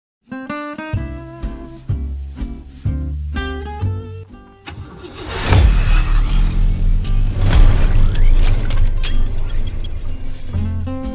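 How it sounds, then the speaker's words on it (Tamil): Soft melodic music plays first, then a bus engine cranks and catches. It settles into a loud, rising rumble as the bus pulls away. "பஸ் கிளம்புது, வாங்கடா போவோம்."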